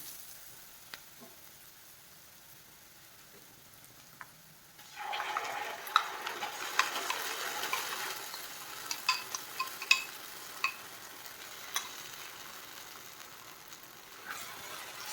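Onion gravy fries in a pan. After a few quiet seconds it breaks into a continuous sizzle, with small sharp clicks and scrapes as it is stirred.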